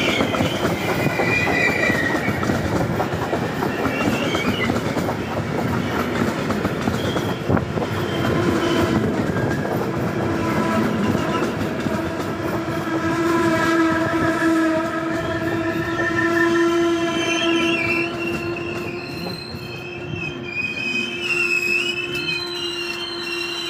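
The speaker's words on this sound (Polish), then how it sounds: "Wjeżdża pociąg osobowy relacji Martin Czadca." A passenger train on the Martin–Čadca line pulls into a station, its continuous rumble and wheel noise filling the scene loudly and steadily, with a sustained horn-like tone sounding through the middle and later part.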